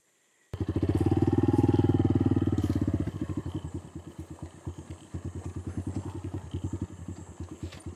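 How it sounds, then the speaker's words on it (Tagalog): A single-cylinder diesel engine on a mountain vehicle starts up loud and close, a steady hammering drone easing after a few seconds into a distinct, rapid chugging pulse that continues to the end. "Single cylinder na makina yan, diesel."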